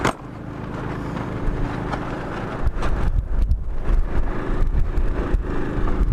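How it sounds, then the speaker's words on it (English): A windstorm blowing outside, a constant roaring rush of wind buffeting close against the microphone, growing louder and gustier toward the end with no one speaking. "Y'all want to see what it's doing outside? I'll show you. It's a windstorm."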